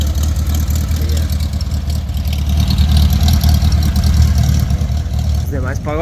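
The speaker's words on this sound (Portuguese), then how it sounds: "Aí a galera do Fusca chegando aí, ó." A lowered Volkswagen Beetle idles at a classic car meet, its steady low engine rumble continuous and loud throughout, with crowd chatter and street noise layered over it.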